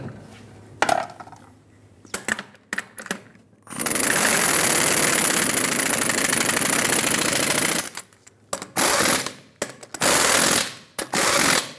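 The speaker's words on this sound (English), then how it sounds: "in a cross pattern, we're going to torque these to 140 foot-pounds" Wheel lug nuts on a 2003-2009 Dodge Ram 2500 are tightened in a cross pattern to 140 foot-pounds: a sustained run of loud mechanical whirring, then short repeated ratcheting bursts with gaps between them.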